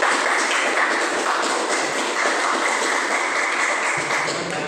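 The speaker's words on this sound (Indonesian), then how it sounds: "Beri aplaus untuk kelompok 3." Classroom applause for Group 3 after their presentation on a vehicle starter system, dense and loud steady clapping from many students that continues evenly for several seconds.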